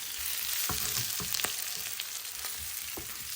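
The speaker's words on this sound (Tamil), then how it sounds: "இதோட 3 தேக்கரண்டி வெந்தயம், 1 தேக்கரண்டி பெருஞ்சீரகம், கருவேப்பிலை ரொம்ப சேர்த்து அதையும் வதக்குவோம்." Fenugreek seeds, fennel seeds and curry leaves sautéing in hot oil, a continuous crackling sizzle with a few sharp spatula scrapes against the pan, close and fairly loud.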